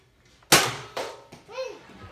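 A toy gun fires at a target: a sharp snap and then a couple of smaller pops and thuds, with a voice rising briefly after.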